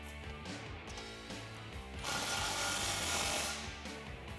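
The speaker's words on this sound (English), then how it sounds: "I'm going to be using a 19mm deep socket and a thin wall 5/8 inch wrench to hold the caster" Jeep hoist cart caster nut being tightened with a 19mm deep socket and ratchet while a thin-wall 5/8 inch wrench holds it: quick, close metallic ratchet clicks in bursts, then a louder, sustained whir near the end.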